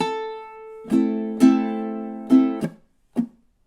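A ukulele plays measure 6 of a minor 12-bar blues: a held opening note, then a handful of crisp plucked notes and strums ending in a short muted hit, close and alone.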